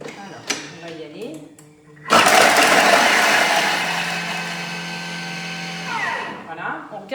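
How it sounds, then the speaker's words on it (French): A Thermomix motor mixing Cambodian amok at speed 7 spins up into a loud, sustained whirring blend with a steady tonal hum, then winds down, with a voice talking before and after. "on va écouter le bruit du moteur."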